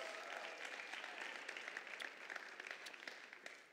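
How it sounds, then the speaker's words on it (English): An audience at a campus event gives a round of applause, a faint, distant, steady patter of many hands clapping together that thins slightly toward the end. "give them a round of applause as well"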